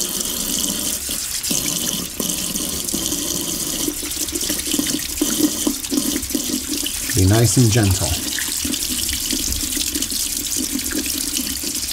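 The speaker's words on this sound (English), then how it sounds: "Let me show you how I wash my tomatoes." Tomatoes are washed under a running kitchen tap, with a steady hiss of water into the sink and short splashes as the fruit is handled. A voice speaks briefly over the flow.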